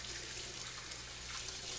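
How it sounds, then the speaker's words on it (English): Tap water runs steadily into a sink as hands are rinsed beneath it, a continuous soft hiss and splash close by, with no talking. "let me rinse my hands off"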